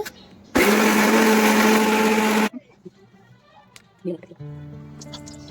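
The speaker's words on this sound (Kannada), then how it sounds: "ಸೊ ಬನ್ನಿ ಈಗ ಮಸಾಲೆ ರುಬ್ಕೊಂಡ್ಬಿಡೋಣ" An electric mixer grinder roars loudly for about two seconds while grinding fish curry masala in a home kitchen, then cuts off abruptly, followed by quieter clatter and handling sounds.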